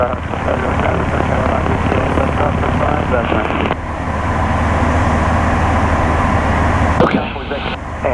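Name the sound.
light airplane engine in flight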